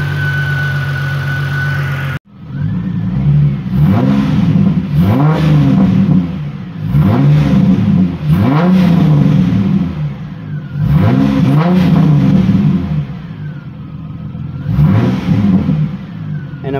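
A car engine with a P0191 fuel rail pressure sensor fault idles loudly and close, its steady rumble broken by periodic revs that rise and fall in repeating surges.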